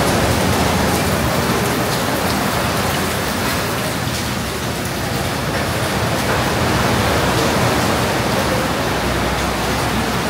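Dense, roaring downpour of heavy rain at a resort in Subic, a constant hiss of water pounding surfaces with no break, loud and close.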